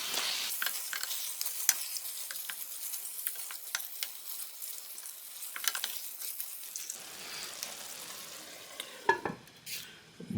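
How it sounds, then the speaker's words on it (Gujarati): Beef masala fries in a pan with salt, ground garam masala and crushed kasuri methi while a spoon stirs it, giving a steady sizzle broken by scraping strokes and occasional clinks close by. "બધાને સરસ ફેરવી દઈએ"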